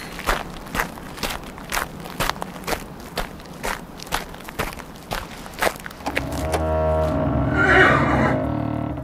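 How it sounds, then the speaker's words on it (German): Footsteps pace through a horse stable in a radio drama, a steady run of close, distinct steps, then a horse whinnies loudly near the end. "Da haben Sie Ihre Pferde, Holmes."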